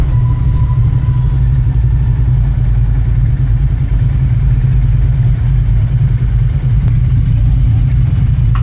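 Motorcycle with a 2x2 fat cans exhaust idles and rumbles nearby, a steady deep, loud drone that continues without break, at a motorcycle show.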